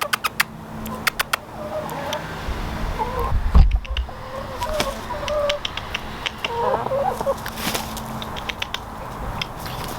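A backyard flock of chickens clucking and murmuring in short scattered calls at moderate distance, over faint background noise and occasional knocks.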